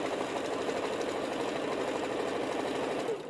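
A sewing machine runs steadily, stitching a quarter inch seam on a glitter quilt, with a dense even whirring hum that stays close and constant before easing slightly at the very end.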